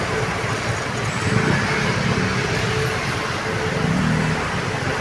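Steady road traffic near an airport in the Philippines, vehicles idling and rumbling past in a constant low drone at moderate volume, with no talking.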